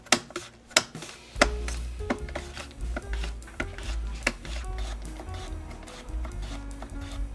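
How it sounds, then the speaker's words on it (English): A knife thinly slicing washed raw potatoes on a board, a series of crisp sharp cuts, irregular at first and then steady, close and fairly loud over a low background hum. "I need potatoes, which we are going to thinly slice."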